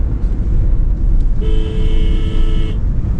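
A vehicle horn sounds from behind on a mountain road: one loud, sustained blast of just over a second rising above the continuous low rumble of the engine and road.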